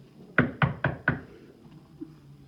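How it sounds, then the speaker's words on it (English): Four sharp knocks on a door land close together in an even rhythm, followed by a quiet room with a faint soft thud afterward. "Just then there was a knock at the door."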